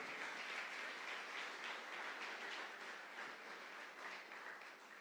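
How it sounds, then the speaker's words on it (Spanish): Congregation applause at a church anniversary closing service: a steady, faint, distant wash of many hands clapping together, continuous throughout with no voices. "Dale ese aplauso al Señor."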